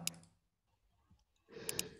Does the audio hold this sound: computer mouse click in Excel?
yes